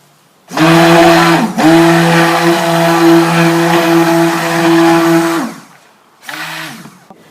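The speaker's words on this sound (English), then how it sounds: "Amy, now we're going to mix the purple colour in, so put the stick blender in." A stick blender whirs loudly and steadily for several seconds mixing purple colour into lavender soap, stops briefly, then starts again in a short final burst.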